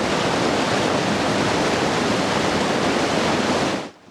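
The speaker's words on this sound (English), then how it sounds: "So this is Nantahala Falls here. Good, solid Class 3 rapid." Whitewater of Nantahala Falls, a Class 3 rapid on a river run by kayak, roars as a steady, loud, broadband rush of churning water that cuts off abruptly near the end.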